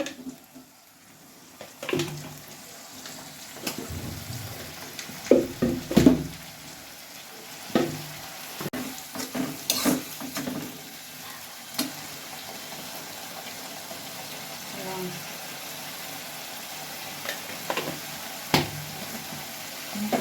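Ginger, onion and garlic sautéed with salt, turmeric and chili powder in a little oil: a steady sizzle with intermittent scraping stirs and clatter, close and fairly loud, with no talking.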